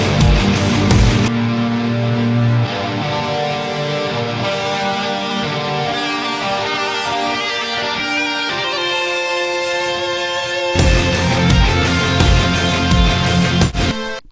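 A lead guitar solo within a dense metal cover mix rings out with sustained, bending melodic lines over full-band backing and steady drums, loud and continuous, with a heavier section returning near the end.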